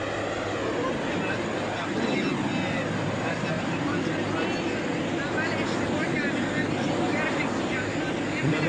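The steady drone of an imperial airplane's engines fills the cabin during a morning flight on a provincial tour, a continuous loud hum under a narrator's voice.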